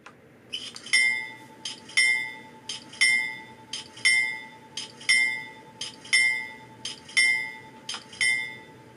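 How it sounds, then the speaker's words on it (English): A mechanical steel bell setting on an ESU LokSound 5 DCC sound decoder rings in a steady, evenly spaced series of about ten bright metallic strikes, each decaying quickly, with a faint sustained tone beneath and no talk. "Setting it to 0 gives you a mechanical steel bell."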